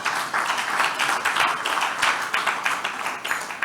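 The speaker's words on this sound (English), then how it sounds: "Let us clap for ourselves." Conference audience clapping for themselves during closing remarks, a moderate patter of hands with uneven, pulsing loudness and no voices over it.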